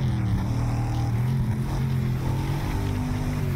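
Cars and motorcycles drive in Next Car Game, a steady loud engine drone with a rough buzzing tone holding throughout.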